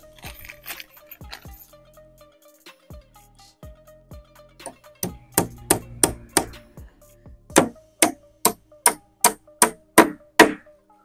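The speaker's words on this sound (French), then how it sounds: "Il faut bien les montrer comment on est en train de clouer." Nails are hammered into a wooden frame for a plantain germinator. Scattered light taps come first, then a run of loud, evenly spaced hammer blows, close by, with no talking.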